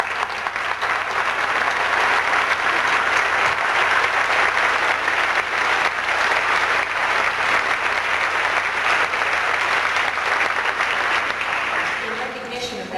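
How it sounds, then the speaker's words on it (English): An audience applauds the Presidential Scholars at an evening ceremony, loud sustained clapping from a large room that holds steady and then tapers off near the end. "I think that deserves a round of applause."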